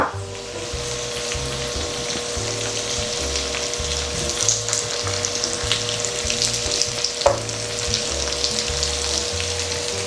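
Potatoes frying in a pan for a breakfast dish, a strong steady sizzle with a rhythmic low thumping underneath and occasional scrapes as they are moved around.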